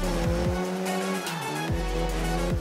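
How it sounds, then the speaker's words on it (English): A BMW M3 E46 GTR race car engine in CarX Drift Racing 2 screams at high revs, its pitch dropping and climbing sharply with gear shifts, loud and close, with no speech. "the sound of this car is so cool"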